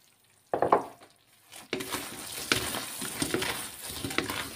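Kue getas pieces stirred through hot caramel in a pan: a few loud scrapes and clinks, then a continuous close sizzle with spoon scraping and soft knocks.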